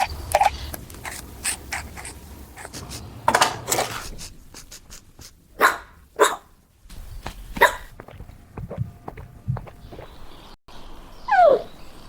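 A small Pomeranian dog gives a series of short, sharp yaps and whiny vocal bursts in an uneven rhythm, fairly close and clear, with quieter gaps between them and no talking.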